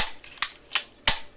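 Three sharp, bright cracks from a toy gun, evenly spaced and crisp, each a short snapping report with no talk over them.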